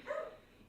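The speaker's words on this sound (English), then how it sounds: "Sorry about my dog, guys." Pet dog at home reacting to a neighbor's dog, one short yipping bark, close and fairly faint, then quiet.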